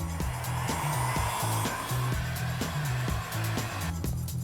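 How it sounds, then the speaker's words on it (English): Heat gun blowing steadily while curling a foam armor piece for a Fallout prop, a constant close airy roar with intermittent low clunks and knocks beneath it. "And the best way to do it is with a heat gun."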